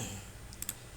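Two or three quick, light clicks from a computer mouse, close and faint over a low background hum, coming in a tight cluster just after the midpoint.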